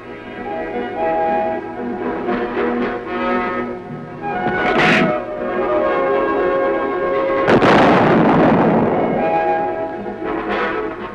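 A self-propelled armored artillery gun fires a shell at a proving-ground test range, with two loud, sharp blasts and their rolling echoes rising out of a steady mechanical hum.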